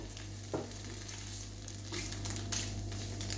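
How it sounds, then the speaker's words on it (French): Eggs cooking gently in a pan give a steady, soft sizzle with a few faint scraping stirs, close and continuous throughout, with no voices. "je vais juste cuire légèrement"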